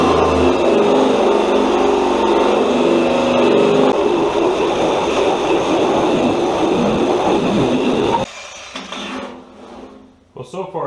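An SPTA surface conditioning tool whirs loudly and steadily, its motor pitch stepping up partway through as the speed rises, then cutting out abruptly near the end before a few brief sounds.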